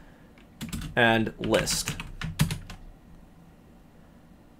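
Keys clatter on a computer keyboard as a conda command is typed, a short burst of taps around and after brief speech, then the room goes quiet.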